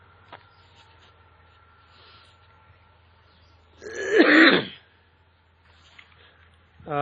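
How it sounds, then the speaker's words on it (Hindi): A single short cough in a quiet room, a brief throaty burst standing alone between near silence. "कभी कभी हल्की सी जैसे खांसी आ जाती है"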